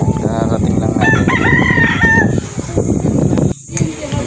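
A gold-feathered rooster in Bicol crows nearby, one long loud cock-a-doodle-doo followed by clucking among other farmyard noise, with a voice briefly in the background.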